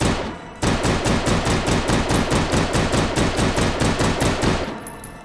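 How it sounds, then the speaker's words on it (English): An M93R RoboCop pistol fires in H3VR, a rapid, evenly spaced string of about fifteen loud sharp shots, close and sustained. "This one is actually the RoboCop gun. The M93RA9."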